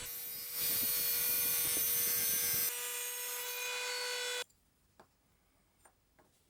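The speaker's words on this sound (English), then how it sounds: "Finally, I was hand grinding it with a very fine file to get the edges all straight." A fine hand file scrapes along the edges of a seashell in a steady, close rasping that runs for several seconds, followed by quiet with a few soft taps.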